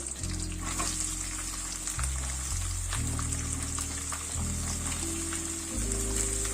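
Green chillies and onion sizzle steadily in hot oil for avalakki, a loud, continuous crackling frying sound close by, with a low electrical hum underneath and no talking.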